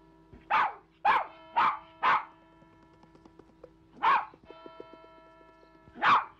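A dog barks in a film scene set on a bitter cold night: five or six loud, sharp single barks, the first four in quick succession, then a pause with faint whimpering before two more spaced barks.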